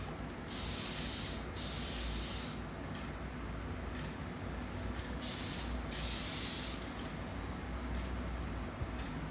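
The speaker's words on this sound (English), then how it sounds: "two old wigs I sort of just put together and sprayed them" Hairspray is sprayed onto wigs in a series of short, sharp hissing bursts, about five of them at uneven intervals, each lasting roughly half a second to a second, close and fairly loud over a quiet room.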